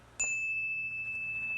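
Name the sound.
meditation bell ringing and fading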